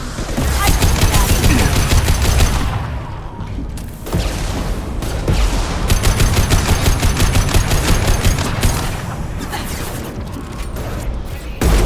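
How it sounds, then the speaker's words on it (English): Heavy gunfire in Mass Effect 2 fills the space, loud rapid bursts of automatic fire broken by brief pauses, punctuated by a concussive shot blast, with faint speech buried underneath. "Firing concussive shot!"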